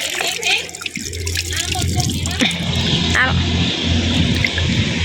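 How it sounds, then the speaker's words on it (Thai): Mangoes washed in water in a home kitchen, with splashing and running water heard under continuous talking. "เราต้องล้างก่อน"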